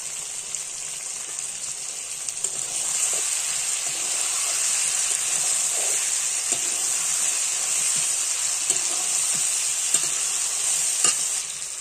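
Ginger paste and meat fry in a pan with a steady, loud hiss of sizzling oil and moisture, with soft stirring scrapes and occasional pops throughout.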